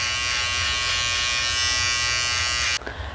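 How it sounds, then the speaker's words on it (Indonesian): An electric shaver buzzes steadily and loudly up close while cleaning leftover hair after trimmer work on a men's taper fade at a barbershop, cutting off abruptly near the end. "Dan langkah berikutnya yaitu kita menggunakan shaver untuk menghabiskan sisa dari trimmer"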